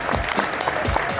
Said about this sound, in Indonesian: Tepuk tangan sekali lagi untuk tim Cabrak